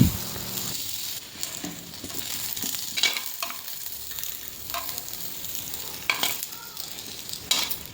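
Potatoes sizzle in a pot while being stirred, with a steady frying hiss and scattered scraping, clinking stirs close by and no talk.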